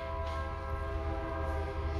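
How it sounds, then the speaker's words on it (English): A train rumbles past in the background outdoors, a steady low drone with sustained horn-like tones layered over it, constant and moderately distant throughout. "The train in the background"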